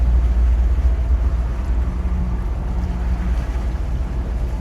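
Twin-engine boat with Bravo III outdrives easing off the throttle at early morning, a steady low engine rumble with water wash, continuous and fairly loud, no voices.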